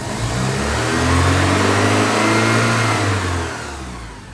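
A 1984 Porsche 944 engine, freshly fitted with new injectors, revs up loudly and close, holds a strong steady tone, then drops back toward idle as the throttle is released.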